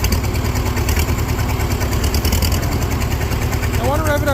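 A Farmall H tractor with a seized valve idles in a loud, continuous, close-up engine drone, its low rumble steady throughout, with a short rising warble near the end.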